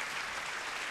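Applause from a concert audience for the orchestra at a 2013 New Year's concert in Salerno, a dense steady wash of clapping throughout with no gaps.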